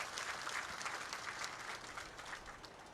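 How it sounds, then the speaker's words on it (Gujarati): A crowd at a political rally in Gandhinagar claps hard and continuously, a dense, even roar of applause that fades slightly toward the end. "ચૈતરભાઈ માટે એકવાર આપણે જોરદાર તાળીઓ પાડીએ"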